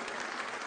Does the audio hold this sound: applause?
yes